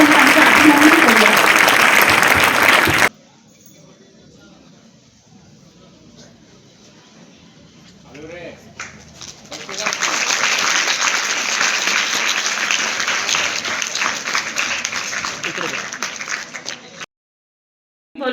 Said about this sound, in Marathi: जोरदार टाळ्या वाजवून आपण त्यांचे अभिनंदन करूया